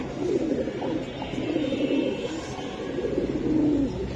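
A pair of silver Giribaz pigeons coos nearby in low, rolling, repeated murmurs that continue steadily throughout at moderate volume.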